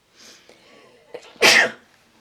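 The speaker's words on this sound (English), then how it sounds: "And I'm going to sneeze, excuse me." A single loud, close sneeze bursts out after some quiet rustling and small handling noises.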